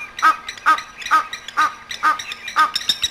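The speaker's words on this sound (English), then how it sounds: "You can hear the Egyptian geese now." Egyptian geese honking at a waterhole in Pilanesberg Game Reserve, about six loud rhythmic calls evenly spaced and close, with other faint bird sounds behind.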